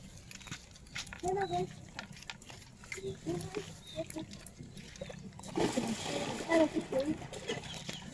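Water splashes and sloshes as boiled beef skin is rinsed in a pan, in short bursts that grow louder near the end, under a voice talking in Thai.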